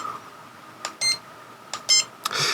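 Radio controller button presses set off short electronic beeps in several quick bursts with differing tones, near and fairly clear over a quiet background.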